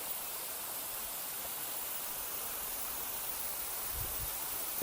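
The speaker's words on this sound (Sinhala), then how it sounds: "ලොකු ඇල්ලක්." A large waterfall in the Knuckles mountain range rushes as a steady, dense roar of falling water, with a couple of faint low thumps near the end and no voices.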